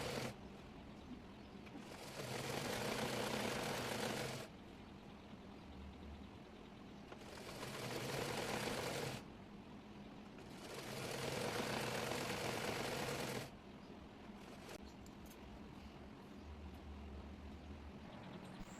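A sewing machine stitches petticoat panels together in three separate runs of a few seconds each, a steady whirring drone broken by quiet pauses.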